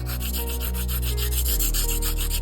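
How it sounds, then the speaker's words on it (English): A pencil is rubbed back and forth on rough sandpaper during sharpening, a close, steady scraping rasp with rhythmic strokes and no talking. "I start sanding on the rough one and fine-tuning on the fine."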